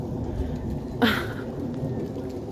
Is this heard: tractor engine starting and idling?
no